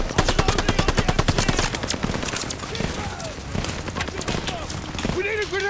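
A tower-mounted machine gun fires in the Call of Duty Vanguard campaign, a rapid rhythmic burst of loud shots for about two seconds, followed by game ambience and scattered combat sounds with voices talking.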